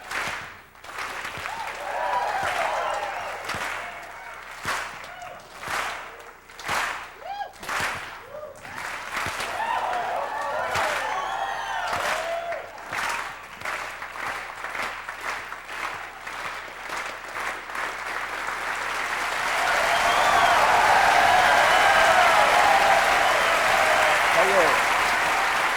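At a 1997 juggling festival show, sharp scattered claps and knocks punctuate a performer's talk, then a broad wave of audience applause swells up and carries on loudly through the last several seconds.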